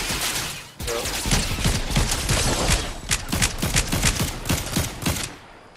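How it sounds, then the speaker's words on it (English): Gunfire in a video game rattles off as a dense, rapid volley of loud shots, continuous for several seconds and close, then stops abruptly. "Oh, more shots, more shots."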